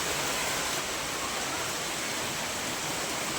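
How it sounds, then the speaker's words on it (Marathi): Heavy monsoon rain falls in a dense, steady hiss, a continuous broadband wash with no breaks, close and enveloping, with no voices. "तर बघा आमच्या इथे लय पाऊस पडायला लागलाय"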